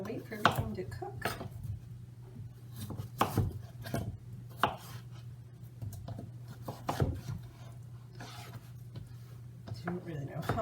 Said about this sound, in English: quarter the cucumber and chop that up